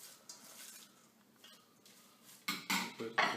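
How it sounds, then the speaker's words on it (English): Drained cabbage tipped into a mixing bowl for a Korean slaw, faint soft handling, then a few louder clattering bowl-and-utensil knocks near the end. "we have our cabbage that's been drained. I'm going to put it into the bowl now"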